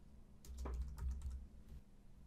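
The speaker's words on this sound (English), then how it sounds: "Now we need to type the words Duplicate Post into the search bar in the top right." Brief burst of computer keyboard typing, a quick cluster of soft key clicks lasting about a second over faint background hum.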